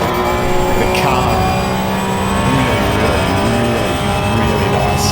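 Race car engine and tyres in Assetto Corsa Evo at Bathurst, a loud steady engine drone with shifting pitch and tyre noise running throughout, no talk over it.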